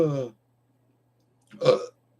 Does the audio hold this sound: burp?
yes